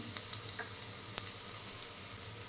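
Mushroom biryani masala frying in a pan, a steady close sizzle with a few soft ticks and stirring clicks, no voices over it.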